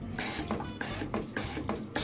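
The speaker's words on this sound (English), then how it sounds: "And they recommend folding your diaper in half like this and spraying it off." A Diaper Dawgs spray collar sprayer hoses off a cloth diaper, giving a close, steady hiss of water spray broken by repeated short pulses and splatter sounds, with no voices.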